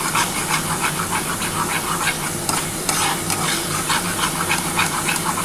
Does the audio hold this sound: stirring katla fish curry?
yes